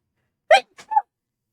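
A single sharp sneeze bursts out during a tabletop role-playing session, a breathy explosive burst followed by a brief softer tail, close and alone against silence.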